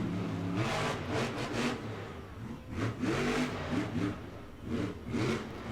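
Monster trucks at a Monster Jam event in an arena, engines revving hard in repeated surging bursts, loud and close, with throttle rising and falling several times and no talk over it.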